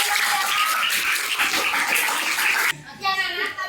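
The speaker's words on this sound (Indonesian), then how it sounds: "Silakan kembali tepuk tangan dulu" Children in a classroom clap together in a dense burst of applause that stops abruptly, after which a voice speaks.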